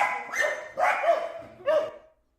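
Several dogs bark and yip in a quick run of about three sharp calls from a played clip, fairly close and clear, with no talking.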